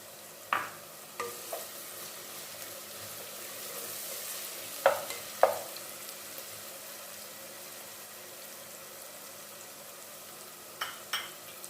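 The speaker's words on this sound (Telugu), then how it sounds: "ఇవి ఎర్రగా వేగనిద్దాం" Chicken curry base frying in a pan with curry leaves tossed in, a steady soft sizzle under a few sharp stirring clacks, close and fairly quiet, with no voices.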